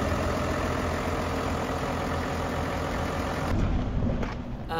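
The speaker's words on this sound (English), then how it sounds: "At the moment we're just using the tractor to feed all the animals." A farm tractor used for feeding animals during snow clearing runs at a steady low idle throughout, close and constant, with a faint shift in tone near the end.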